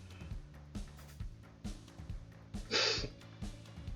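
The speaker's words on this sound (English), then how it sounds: "Don't mind my sniffling" Repeated short nasal sniffs from a person with allergies, close and fairly quiet, recur every half second or so, with one louder, breathier snort in the middle.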